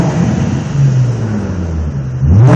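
An Infiniti G35 fitted with a TopSpeed Pro 1 exhaust: a short, close, deep exhaust drone with a low tone that sags and then climbs sharply in a quick rev at the end, with no voices.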